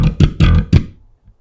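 Slap bass exercise played with thumb slaps and percussive left-hand notes, four sharp, punchy attacks in quick succession ringing close and loud, then a faint muted tap as it dies away.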